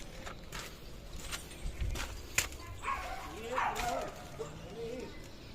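Dogs attacking a nilgai yip and bark in sporadic bursts at middle distance, with whimpering cries and footsteps amid excited human voices talking over them.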